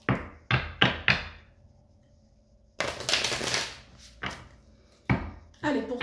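Oracle cards are handled and drawn from a deck: a few sharp taps open the clip, followed by a longer riffling shuffle and some brief flicks and thumps near the end.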